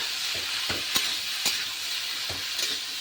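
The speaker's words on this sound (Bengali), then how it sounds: "ঠিক আছে, নাড়াচাড়া করে নিলাম" Pumpkin with turmeric and red chili is stirred in a hot pan for a sweet-and-sour dish, a steady close sizzle broken by several scraping strokes of the spoon, with no talking.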